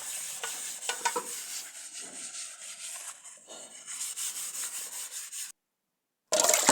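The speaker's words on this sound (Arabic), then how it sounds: "هنايا بديت كنحك في المعينات، حكيتهم مزيان" Kitchen dishes scrubbed by hand with soap and bleach in a rural home, a continuous close rubbing and scraping with rhythmic strokes, then a brief silence before the scrubbing resumes loudly.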